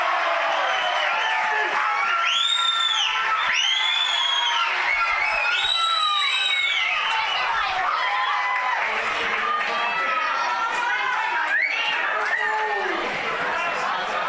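Crowd at a women's Australian rules football grand final, Nightcliff Tigers against Tracy Village, cheering and chattering steadily, with excited shouts rising and falling under continuous commentary.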